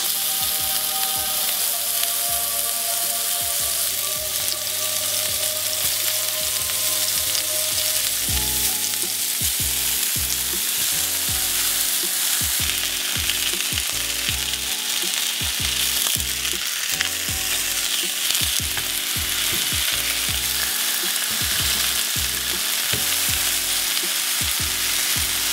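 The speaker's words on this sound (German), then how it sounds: "Die Bulette kommt jetzt rein, die Pfanne ist jetzt heiß." A beef patty sizzles and crackles in a hot pan, with a steady loud frying hiss and occasional stirring and scraping sounds, and no one speaking.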